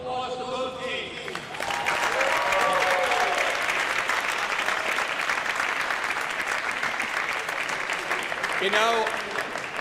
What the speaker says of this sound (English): Applause to both teams.